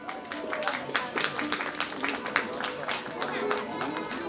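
An audience at a prize-giving ceremony during a drama festival claps steadily, a dense run of many hands at moderate distance sustained throughout.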